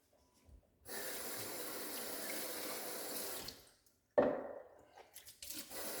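Tap water runs steadily into a sink as a DeLonghi Magnifica Evo milk jug is rinsed, a continuous splashing flow that stops, then returns in shorter, uneven bursts, close and fairly loud.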